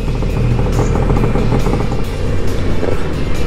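A tourist bus carrying a middle school group on an excursion passes by on a road, a loud, steady, low engine rumble mixed with traffic noise, with no talk.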